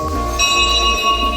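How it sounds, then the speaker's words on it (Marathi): A temple bell at a Mahadev temple inside Rajhansgad fort near Belagavi rings once, a bright metallic strike with a sustained shimmering tone that lingers and rings out loud and close. "आपण घंटी वाजवू."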